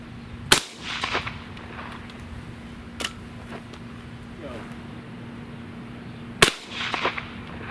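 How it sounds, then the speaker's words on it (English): Fully rifled shotgun firing a light three-ball load with black powder, two sharp, loud reports several seconds apart outdoors, each followed by a short rattling echo, with a faint steady hum underneath. "we'll be using a fully rifled shotgun"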